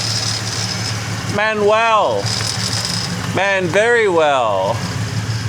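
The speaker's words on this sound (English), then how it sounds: "Engine's running." Engine running in a car converted to manual, a steady low rumble with light rattle idling close by under a man's speech.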